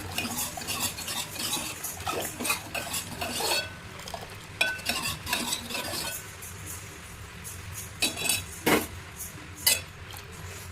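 A spoon scrapes and clinks against a pot in quick, irregular strokes as a mixture is stirred, close by with no talking.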